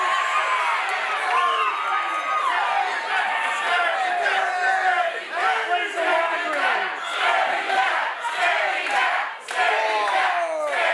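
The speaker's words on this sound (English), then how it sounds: "This crowd none too eager to call Jay Marston a scaredy cat" A wrestling crowd at a Glory Pro Wrestling show cheers and chants loudly and without a break for the full stretch, a dense wall of shouting voices at close range with no clear single speaker.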